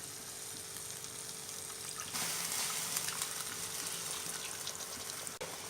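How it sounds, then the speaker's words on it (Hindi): Water poured from above into a pan of chicken changezi curry, a steady gushing splash that swells louder partway through and runs on alone for several seconds. "साथ ही हम इसमें पानी ऐड कर देंगे।"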